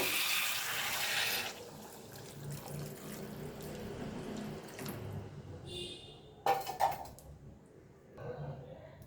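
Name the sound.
hot water poured into a rohu fish curry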